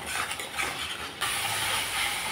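Potatoes fry in a pan with turmeric and salt, giving a loud, continuous broadband sizzle and hiss close by that briefly dips, then surges again, with no voices.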